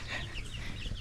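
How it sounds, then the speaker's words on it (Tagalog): Backyard chickens cluck steadily at a moderate distance, with overlapping soft calls and a low rumble of farmyard ambience throughout. "ating mga manok dito."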